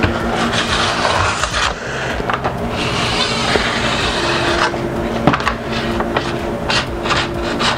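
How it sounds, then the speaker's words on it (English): A metal file rasps along the steel edge of a ski clamped in place, a steady gritty scraping that runs through nearly the whole stretch in close, continuous strokes with brief lighter pauses. "I just file with the ski because that's what I've learned"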